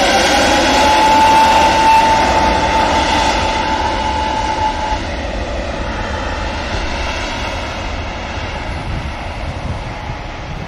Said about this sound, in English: Here goes the Lufthansa, just releases the brakes